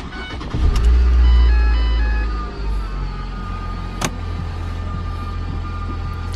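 A school bus idles with a low, steady engine rumble after a cold start, its air conditioning left running; the engine swells briefly early on, then settles into an even drone with a sharp click partway through.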